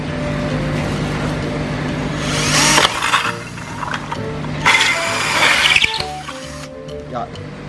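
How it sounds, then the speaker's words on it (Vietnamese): A 35 mm bit bores a hole for a betta fish tank setup, with two rasping, grinding bursts of drilling separated by pauses while a person talks nearby. "Bây giờ tiến hành khoan lỗ."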